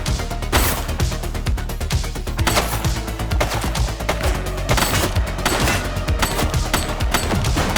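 Heavy gunfire in the police game The Precinct, with loud rapid volleys and sharp shots that overlap into a near-constant barrage close at hand.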